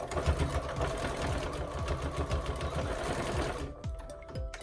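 Sewing machine stitching a seam on a fabric snuggle tunnel, running loud and steady for several seconds with a back-and-forth reverse, then stopping abruptly into quieter handling noise.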